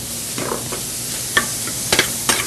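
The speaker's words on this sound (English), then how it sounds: "just chop up our ground beef and just brown it off a little bit" Ground beef and onion browning in a pan, with a steady low sizzle under several sharp scraping, chopping knocks as a utensil breaks up the meat, close by and fairly quiet.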